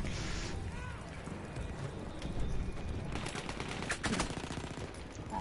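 Pistol gunfire in a first-person video game, a series of sharp shots mixed with other battle noise, with louder bursts around the middle and end.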